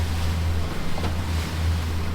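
A boat moving out through a shallow river mouth into rough water, with a steady low engine drone under continuous wash of waves and wind buffeting the microphone, loud and unbroken throughout.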